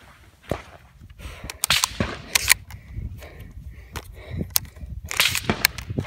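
Tactical shotgun firing at a target during a private range lesson in South Florida, several sharp loud blasts spaced irregularly with handling noise between, no talk.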